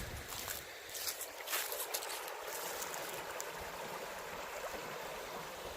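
Inside a flooded cave, rushing water makes a constant broadband hiss and churn with no talk, steady and fairly distant in the background.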